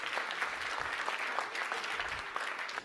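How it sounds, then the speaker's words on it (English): A conference audience breaks into dense, steady applause, many hands clapping together at moderate distance, honoring the chairman after a cybersecurity panel presentation. "Could you please give him a very, very warm round of applause?"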